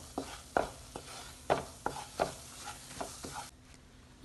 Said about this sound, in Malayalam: 2 ടീസ്പൂൺ മൈദ ചേർത്ത് നന്നായിട്ടൊന്ന് വറുത്തെടുക്കാം.